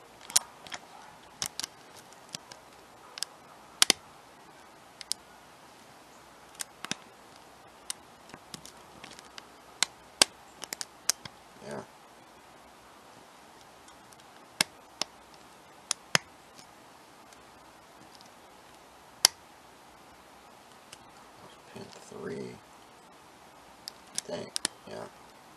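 A challenge lock is being picked, giving sparse sharp clicks scattered irregularly through a quiet stretch, faint and close.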